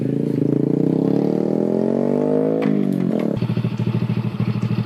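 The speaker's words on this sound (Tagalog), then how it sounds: "gamit ko yung motor ni Cap" A motorcycle rides close by, its engine droning and rising in pitch, then dropping to a rough, pulsing idle-like putter near the end.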